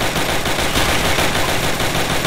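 Sustained machine gun fire in a Roblox World War II game, a dense, loud burst of rapid shots that carries on without a break and drowns out other sound.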